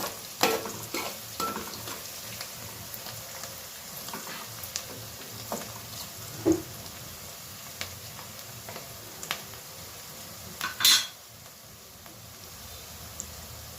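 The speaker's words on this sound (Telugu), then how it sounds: "రెండు మంచిగా ఫ్రై అయ్యి కొంచెం లైట్గా అల్లం కలర్కి రావాలి" Onions frying in a pan for a green chicken curry, a soft continuous sizzle broken by occasional spatula taps and scrapes, with one sharper clatter near the end.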